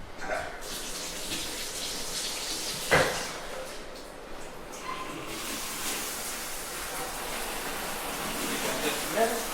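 Water running from a tap in a newly built home, a steady broad rush that holds throughout, with a brief knock partway through.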